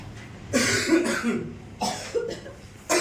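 Several harsh coughs in quick bursts, fairly close, with short pauses between them and no talking.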